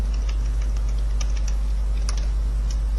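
Someone types a Python print statement on a computer keyboard, a quick string of light, close key clicks over a loud, steady low-frequency hum.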